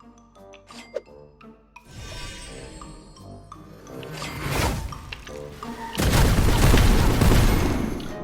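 Cannon blasts fired in the mobile game Escape Boy, heavy booming explosions building from a few scattered thumps into a dense, loud barrage of crashing blasts toward the end, with no talk over them.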